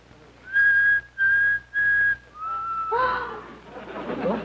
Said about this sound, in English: this tea kettle is practically whistling the opening movement of Beethoven's Fifth